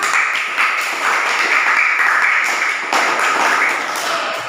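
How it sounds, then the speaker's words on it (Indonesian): A classroom of students giving a round of applause during a teaching simulation, dense continuous clapping close by for several seconds. "Kita berikan aplaus dulu untuk kita semua."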